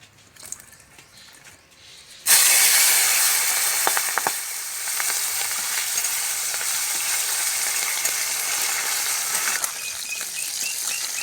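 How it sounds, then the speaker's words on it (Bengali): Fish frying in hot oil in a wok over a lit stove, a sudden loud burst of sizzling as the pieces go in, then a steady, dense crackle with occasional stirring clatter. "এবার মাছগুলোকে ভেজে নেব"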